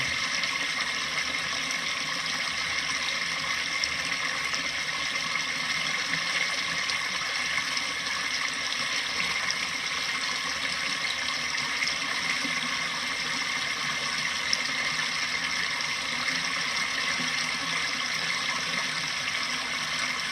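A small waterfall pours over leaves placed to redirect its flow. The steady, close rush and splash stays even throughout, with no voices.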